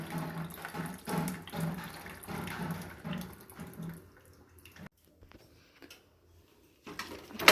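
Cooking water is poured off boiled black-eyed peas, a steady splashing gush that thins to scattered trickles and drips before stopping.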